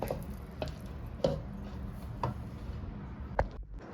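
Mango puree and cream being mixed for a mousse, soft wet stirring with several light clicks of a utensil against the bowl at irregular intervals, quiet and close.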